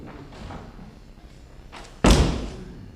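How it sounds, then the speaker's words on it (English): A door slams shut with one loud, sharp thud. Faint indoor room noise comes before it, and the slam decays quickly, with no voices heard. "I thought I heard the door slam"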